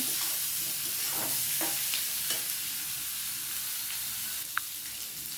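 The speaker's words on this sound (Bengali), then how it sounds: "দিয়ে কিছুক্ষণ আমি এটা কষিয়ে নেব" Potatoes being sautéed with onion, garlic, salt and turmeric in a pan, a steady sizzle broken by several scraping stirs of a spatula, close and clear with no voices.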